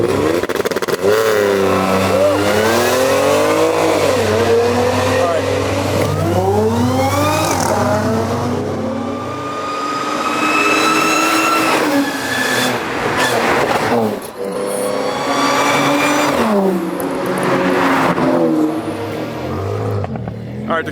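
A V10-engined car revving hard at a car fair, a loud, high-pitched wail that climbs and falls through several sustained throttle pulls with crowd noise around it.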